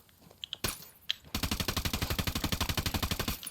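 Rapid automatic gunfire in the video game Ghost Recon Wildlands: a few single shots, then a loud sustained burst of evenly spaced rounds firing close up.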